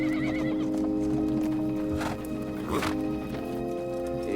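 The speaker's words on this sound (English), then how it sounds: "I'm worried about these horses." Horses on a desert trek whinny loudly and nearby over a steady low drone, with a couple of sharp bursts midway and faint hoof movement.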